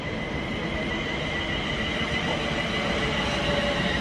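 A southbound train to London Euston rushes past near Stafford in a loud, continuous roar of wheels and rail noise with no letup, close by and without voices.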